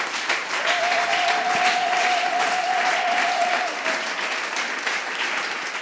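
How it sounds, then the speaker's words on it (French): A church congregation applauds together, a dense, steady wash of clapping that fills the whole stretch, with a faint sustained tone sounding briefly in the middle. "Est-ce que vous pouvez vous acclamer pour vous-même?"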